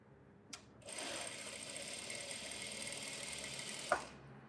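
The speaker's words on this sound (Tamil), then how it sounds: "இது நானே தச்சிடுறேன்" A tailor's sewing machine runs in one steady, continuous burst while stitching the back piece of a blouse, starting after a brief knock and ending with a sharp click, close and alone.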